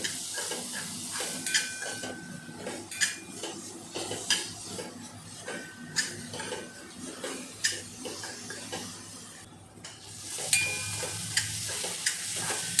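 Thecha, a crushed chilli and garlic mix, being sautéed over a low flame and stirred in a pan. Soft sizzling runs throughout, with repeated scraping and clinking strokes of a spoon against the pan.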